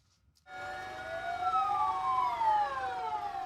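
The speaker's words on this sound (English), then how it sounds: "As sirens wailed," Emergency sirens wail in Mandalay during a moment of silence for earthquake victims, several overlapping rising and falling tones starting abruptly and sustained at moderate distance, with no talking.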